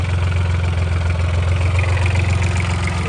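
A home-made 26 hp tractor engine idles in a steady, loud low-pitched thrum with rapid even pulses, close by and uninterrupted, no voices present.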